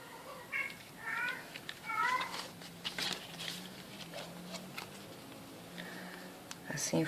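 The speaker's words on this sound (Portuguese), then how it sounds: "A sinfonia do gato da vizinha tá uma maravilha." A cat meows repeatedly outdoors near a craft workshop, in several drawn-out, rising calls at moderate distance. A person talks quietly in between.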